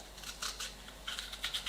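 A knife cuts a green pepper on a board, giving a few quick crisp chopping strokes in two short bursts, close and fairly quiet, with no talk over them.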